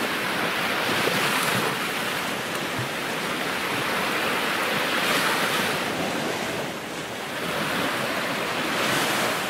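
Sea waves on the shore surge and break in a continuous roar, swelling and easing in slow cycles, with wind buffeting the microphone throughout.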